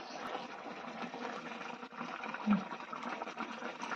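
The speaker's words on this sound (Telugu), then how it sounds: "ఇప్పుడు ఇందులోకి నీళ్ళు ఇలా పోసేసుకుంటున్నా" Continuous splashing and gurgling of water being poured into a cooking pot for village-style chicken curry, fairly close and steady, with a slight thump partway through.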